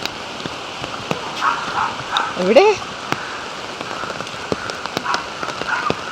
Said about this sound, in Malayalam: ഇവിടെ മഴ പെയ്തു, നല്ല മഴയുണ്ട്.